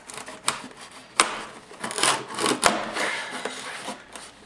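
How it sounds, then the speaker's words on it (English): Sharp woody cracks and clicks pop out at irregular intervals over scraping and rubbing noise as old hide glue joints break apart on a solid oak parlor guitar, fairly quiet and close. "That's the sound of hide glue breaking away."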